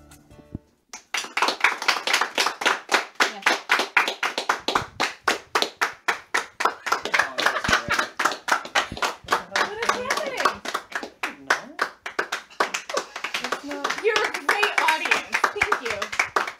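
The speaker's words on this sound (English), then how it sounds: "Everybody's gonna have blisters from clapping." An audience at a live radio show claps hands in steady, fast, loud rhythmic applause that carries on for about fifteen seconds, with some voices mixed in.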